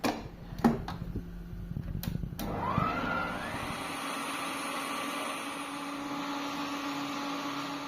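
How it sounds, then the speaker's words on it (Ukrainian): An electric mixer beats butter with sugar, with a few clicks and knocks before the motor settles into a steady, even whir that keeps running to the end. "З'єднуємо вершкове масло разом із цукром і взбиваємо до пишної маси"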